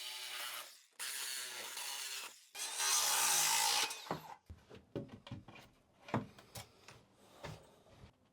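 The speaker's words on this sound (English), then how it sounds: "So let's go ahead and cut this stud out." A wall stud is cut out beside a shimmed Jacuzzi tub during a bathroom remodel. Close, rasping sawing through wood runs in long strokes, then breaks into shorter scraping and knocking sounds as the cut finishes.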